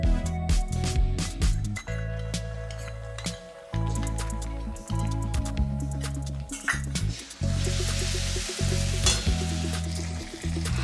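Spoonful of cumin-coriander paste sizzling and frying in a pan with ginger-garlic paste for a pomfret fish curry, steady loud hiss broken by repeated stirring scrapes and clinks of a utensil.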